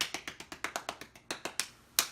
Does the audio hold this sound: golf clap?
yes